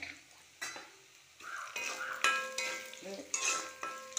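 Dried red chilies fry in hot oil in a pan while being stirred, giving soft sizzling with scraping and light clinks of a utensil against the pan at close range, and no talking.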